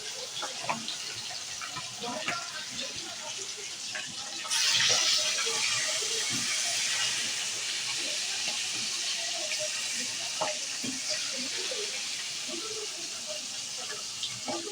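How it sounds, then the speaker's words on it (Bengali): Pieces of hilsa fish frying in hot oil: a steady, fairly loud sizzle swells suddenly and then holds a continuous crackling hiss to the end. "ইলিশ মাছটা আমি ভাজতে দিয়ে দিয়েছি"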